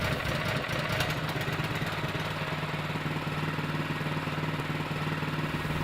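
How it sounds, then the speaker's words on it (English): A Baumr-AG four-stroke garden machinery engine idles steadily while warming up after a cold start, a continuous close mechanical drone with an even low hum and no talking. "Let it idle for a few seconds to warm up"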